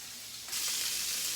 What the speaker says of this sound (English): While we have the pork tenderloin searing